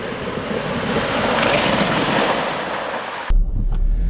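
A vehicle drives through a shallow river ford on an Icelandic highland track. Water rushes and sloshes loudly and continuously against it, with wind buffeting the microphone, then the sound cuts off abruptly into low rumble near the end.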